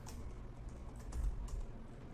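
Quiet, close typing on a computer keyboard while a password is entered, a short run of soft irregular key clicks over about two seconds.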